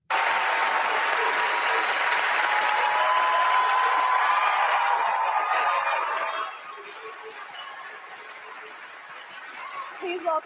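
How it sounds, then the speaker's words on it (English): Loud, sustained applause fills a large ESPY awards audience for the Invictus Games, a dense roar of clapping that holds steady for several seconds before dropping to a quieter murmur with lingering scattered claps. "So the huge applause there was for the Invictus Games"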